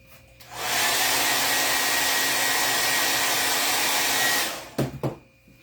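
A blow dryer switches on and blasts a steady, loud whoosh for about four seconds while drying a craft transfer, then cuts off, followed by a couple of soft handling bumps.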